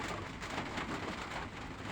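Soft, continuous patter of light drizzle dripping on a roof, a dense even hiss with no voices, brief and moderately faint.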